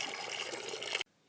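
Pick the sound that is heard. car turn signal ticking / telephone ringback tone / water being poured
water being poured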